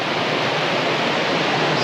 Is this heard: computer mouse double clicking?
no